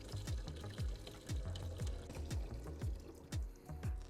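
Liquid lawn fertilizer pours into a backpack sprayer, a quiet steady stream broken by regular glugging pulses about twice a second.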